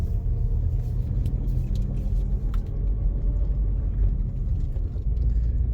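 A Rover 25 GTI on the road after a head gasket replacement, its engine giving a steady low rumble with road and cabin noise throughout and no talk.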